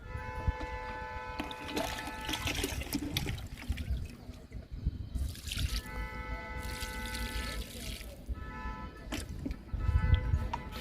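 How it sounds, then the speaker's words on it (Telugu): Liquid fertilizer is poured onto moringa and fruit plants in a home garden, giving a steady pouring and trickling wash that runs through most of the stretch with no speech. "ఇప్పుడైతే లిక్విడ్ ఇస్తున్నాను"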